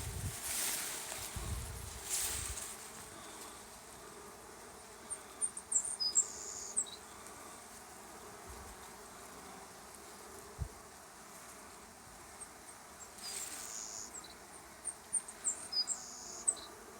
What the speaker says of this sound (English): You can just see the amount of bees at that entrance.